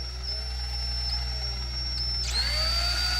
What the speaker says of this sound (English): I'm going to start my drill slow.